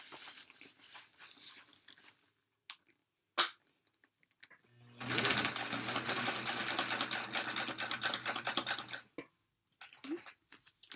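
Sewing machine stitching a seam on a tote bag, a quiet stretch of handling clicks, then a few seconds of steady rapid needle chatter that stops abruptly, followed by faint fabric rustling.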